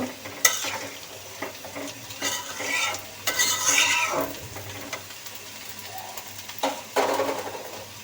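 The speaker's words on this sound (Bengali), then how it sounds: "মাছ দিয়ে ভালো করে একটু নাড়াচাড়াটা দিব" A spoon stirs fish into a simmering curry in a pot, giving a series of uneven scraping, sloshing strokes with bubbling beneath and a steady low hum throughout; no one speaks.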